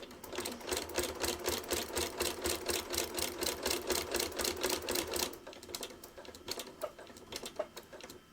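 A sewing machine stitches along the binding of a small quilted Valentine project, a fast steady mechanical whir for about five seconds before it slows into softer, uneven stitching and clicks.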